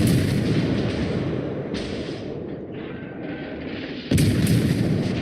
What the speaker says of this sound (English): I've got to wait for the cannons to reload every time. I'm getting a lot of hits.